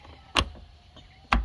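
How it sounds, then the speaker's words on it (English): Two sharp, close thuds sound about a second apart as the door of a custom long-range camper trailer swings shut and latches, each a brief hard knock against a quiet background. "you shut the shut the door,"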